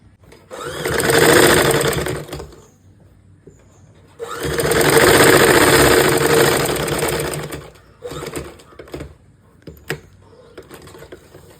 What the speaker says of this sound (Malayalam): എന്നിട്ട് നമുക്ക് ജസ്റ്റ് ഇവിടം വരെ ഒന്ന് സ്റ്റിച്ച് ചെയ്തെടുക്കാം